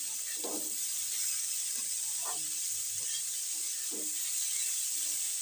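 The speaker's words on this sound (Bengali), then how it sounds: "এবার এর মধ্যে আমি গ্রেট করে রাখা শিমগুলোকে দিয়ে দেব" Grated flat beans and green chili fry in a pan with a steady, bright sizzling hiss that runs throughout, broken by a few soft stirring scrapes at regular intervals, and no voices.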